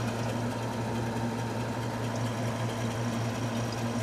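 A restored antique Frigidaire W-5 refrigerator runs with a steady low mechanical hum and faint buzzing vibration, continuous and even throughout at a modest level, with no speech.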